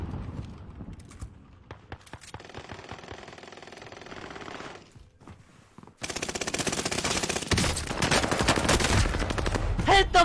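Video game gunfire, rapid bursts of automatic shots with clattering action that grow denser and louder in the second half, mixed with other game noise.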